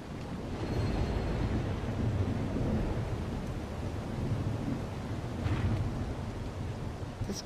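Thunder rumbles low and steady across a swamp in the video game Battle Chasers Nightwar, a continuous stormy roar with brief swells, no voices.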